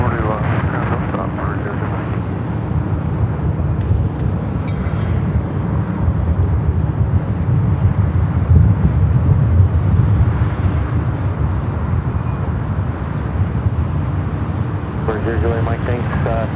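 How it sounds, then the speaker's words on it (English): Cargo jet on the south side of LAX airport, a steady loud low engine roar and rumble filling the whole stretch with wind-like broadband noise, under faint radio chatter. "I'm hearing that cargo jet there on the south side"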